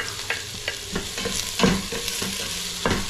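Onion and ginger sauté in a pan with garlic while being stirred, a loud close sizzle broken by repeated scraping strokes of the utensil every half second or so.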